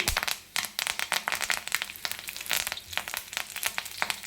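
Curry leaves spit and crackle in hot cooking oil in a pan, a dense run of sharp pops and sizzling bursts at close range for a few seconds, with no talking.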